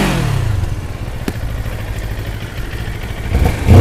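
Moto Morini Calibro 700 motorcycle engine running near, a loud steady idle rumble with a sharp click partway through and a rising rev toward the end.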